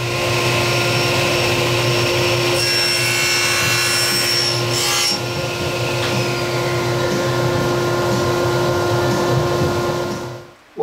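A table saw runs steadily while cutting wood for a handmade wooden plane, a loud continuous whine with a shift in tone as the blade passes through the workpiece, then winds down abruptly at the end.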